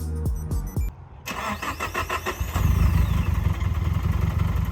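A Nissan Silvia engine is remote started by an alarm system: the starter cranks briefly, then the engine catches and settles into a steady, rumbling idle, preceded by short electronic chirps.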